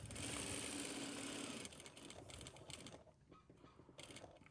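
A sewing machine runs close and loud for a steady stretch while sewing a pocket, then breaks into shorter, stuttering bursts of mechanical whirring and clatter.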